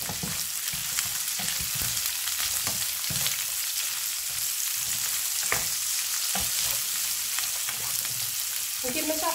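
Crispy pork stir-fried dry with bell peppers in a hot pan gives a constant close sizzle, broken by repeated scraping stirs and clanks of the spatula.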